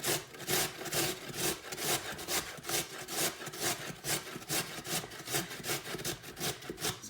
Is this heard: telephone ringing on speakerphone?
no